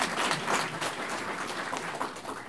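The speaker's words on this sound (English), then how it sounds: "a round of applause, please, for David Zarling" A room full of people applauding steadily, dense continuous clapping at moderate volume that carries on evenly throughout.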